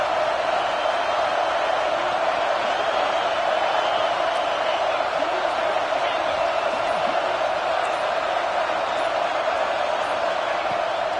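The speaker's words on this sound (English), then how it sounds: "Third down play in the red zone, and this crowd is at fever pitch." Steady roar of a stadium crowd at fever pitch during a third-down red-zone play in a football video game, a dense and continuous wash of cheering throughout.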